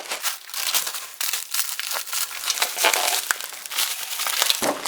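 Plastic packaging bags holding replacement parts for a Pioneer CT-777 cassette deck crinkle and rustle close up, in irregular crackling bursts as the bags are handled and crumpled.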